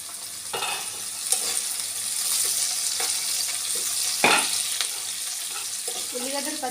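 Amaranth leaves frying with onions and green chillies in a pan give a steady soft sizzle, broken by a few scraping stirs and one louder clatter near the middle, close up and without talk.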